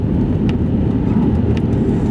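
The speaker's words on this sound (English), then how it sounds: "this is a particularly rough bit that you don't want to meet traffic coming the other way. Rattles your car." A car driving over a rough, damaged fen road with repairs and holes, heard from inside as a steady, loud low rumble with rattling and a couple of faint brief knocks, with no talking.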